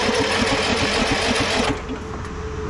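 A Cub Cadet 1170 lawn tractor engine idles close by with a rapid, even chugging pulse, loud and steady before dropping to a lower, rougher note near the end.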